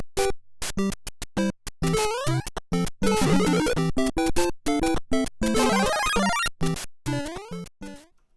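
A bright, bouncy chiptune melody, the Super Mario Bros. theme, plays in quick staccato notes with short gaps, a cheerful retro game tune running loud and alone throughout.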